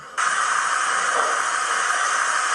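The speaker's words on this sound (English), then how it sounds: "Safety valve." A steady, loud hiss of escaping steam bursts on suddenly and holds at full force: a model Black 5 steam locomotive's safety valve sound effect from a digital sound decoder.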